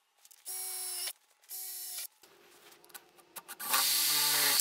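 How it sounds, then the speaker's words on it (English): A power drill whirs in three bursts, two short and one longer, drilling a 1/4 inch hole in wood, with quiet clicks and handling noise in the pauses. "right now I'll drill that 1/4 inch hole into those spots"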